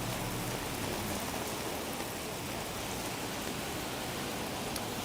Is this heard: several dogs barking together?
no